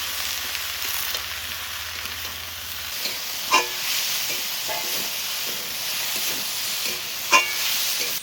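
Taro stolons (kochur loti) frying in a pan with salt and turmeric, giving a broad steady hiss and sizzle with a few louder spatters and occasional stirring scrapes, close up and continuous throughout.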